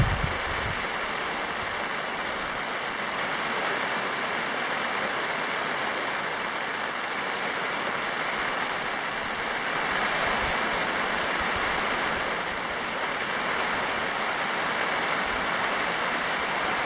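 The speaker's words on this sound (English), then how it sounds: "Really raining now." Steady rain pours down at a lakeside wilderness campsite, a dense, even hiss of falling water that holds at a constant moderate level throughout with no voices.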